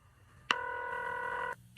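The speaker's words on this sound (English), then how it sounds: "It's ringing." A single steady telephone ring tone lasting about a second after a number is dialed, clear and close, with no voices.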